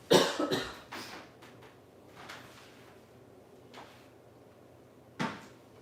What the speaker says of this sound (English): I'm gonna cough a second, hold on.